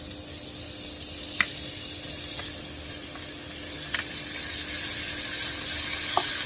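Mixed vegetables such as potato and flat beans frying with dried fish in a pan, a steady moderate sizzle with occasional clicks of stirring and no voices.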